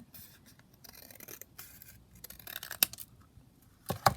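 Scissors trim paper for a small handmade booklet, making quiet, scattered snips and rustles close by, with a couple of sharper cuts toward the end.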